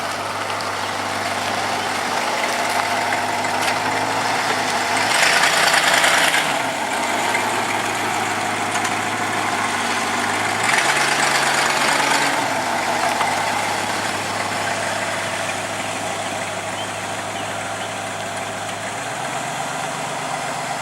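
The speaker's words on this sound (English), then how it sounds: "That's Gregory's green truck, which is a sweetie pie. It's a Chevrolet" A green Chevrolet truck idles steadily nearby with a low, even engine hum, swelling slightly a couple of times and with no talk over it.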